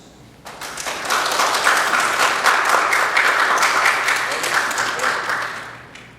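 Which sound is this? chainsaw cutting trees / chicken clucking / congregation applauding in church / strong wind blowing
congregation applauding in church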